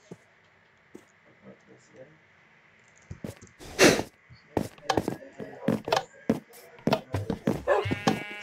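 Sheep bleat in Minecraft, several short repeated cries at an irregular rhythm, fairly close and clear. They come over a faint steady background hum.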